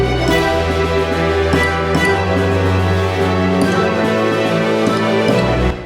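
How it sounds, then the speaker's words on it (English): An orchestral composition rendered with VST instruments swells as a full, sustained ensemble texture with layered low and mid tones and regular accents, loud and continuous throughout. "So it sounds like this big orchestra"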